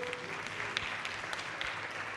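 A church congregation at a Seventh-day Adventist service in London claps together, a soft, steady patter of many hands heard from a distance and kept fairly quiet throughout.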